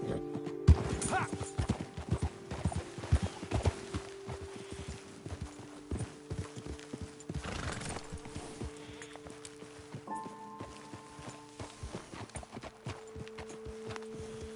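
Several horses in the Western video game Red Dead Redemption 2 clip-clop at a walk, with steady hoof beats close by, an occasional snort or whinny and a brief voice speaking over them.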